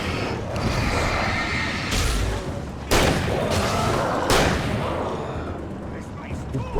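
Shotgun fire in a video game: a couple of sharp, booming blasts stand out over dense, loud game noise and background clatter.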